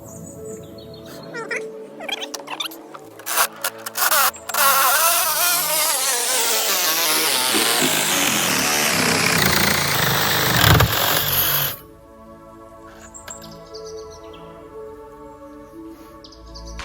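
A Sawzall reciprocating saw cuts through a metal rod for a rabbit cage tractor, the motor revving up into a loud, sustained, rising metallic whine for about eight seconds before stopping abruptly, with faint outdoor background afterward.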